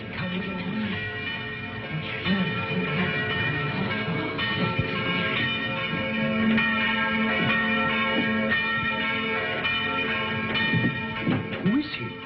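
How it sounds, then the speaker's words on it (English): A church bell rings from a tower, its sustained, resonant tones hanging steadily and loudly throughout, overlapping into a continuous shimmering peal. "Did he ring the bell to say the gauntlet had come home?"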